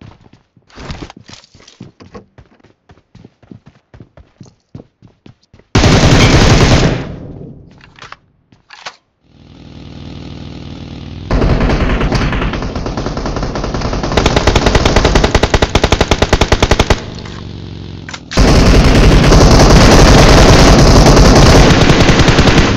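Rapid automatic gunfire from a BGMI battle against a rival squad at a house, loud bursts of shots sometimes sustained, with gaps of quieter scattered shots in between.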